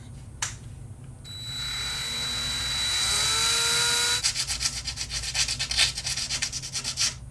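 A power drill whines steadily, rising in pitch for a few seconds, then gives way to rapid rhythmic grinding bursts as it bites into a MacBook Pro laptop case; no talking.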